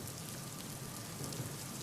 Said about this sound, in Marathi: पुण्यात मुसळधार पावसाला सुरुवात झाली।